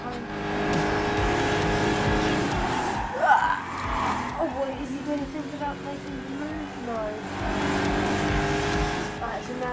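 Racing car engines and tire squeal in the Gran Turismo 5 video game, a sustained droning engine that wavers with shifts and a brief squeal burst partway, with a voice talking over it.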